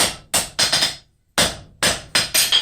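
A hammer strikes copper on an anvil while a hook is forged, sharp ringing blows in two quick bursts of three or four hits, with a pause between, loud and close.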